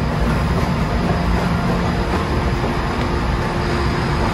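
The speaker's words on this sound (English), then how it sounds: "So is this our train? This is our train." A train at a London station platform gives a steady, loud low rumble throughout, with a constant high whine above it and no voices.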